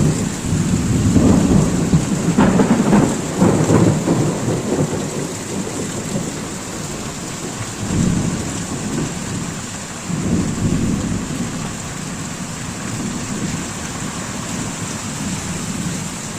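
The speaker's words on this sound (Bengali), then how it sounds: "বাপরে, দেখো গাইস খালি প্রচুর পরিমাণে বৃষ্টি হচ্ছে বাইরেটা।" Heavy rain pours steadily outdoors, with loud rumbling thunder rolling through the first few seconds and again briefly later, the downpour continuing as a dense hiss throughout without any talking.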